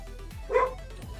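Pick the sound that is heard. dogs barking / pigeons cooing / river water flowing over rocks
dogs barking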